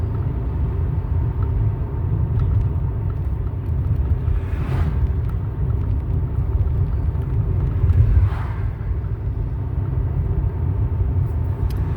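A car cruising along a Texas road, a steady low rumble of tires and engine with wind buffeting the cabin and a couple of brief louder swells as traffic passes.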